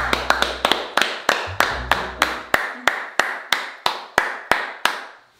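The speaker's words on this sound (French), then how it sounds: "On peut s'applaudir." A group of people clapping for themselves after finishing a painting challenge among brothers: a steady run of sharp, separate claps in a slowing rhythm, close and fairly loud, with a low hum underneath at first.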